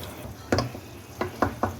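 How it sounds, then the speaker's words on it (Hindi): A spoon stirs and mashes a sweet-sour raw mango chutney with launji in a pan, giving about five sharp, close scraping knocks at an uneven pace over a faint sizzle. "इसे ज़रा चम्मच के साथ मैश कर दें। इस तरह से मिक्स करते रहें और इसको हल्का सा मैश कर दें।"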